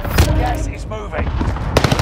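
Sniper rifle fire in Warzone, sharp loud shots at the start and again at the end, mixed with game action noise and voices talking.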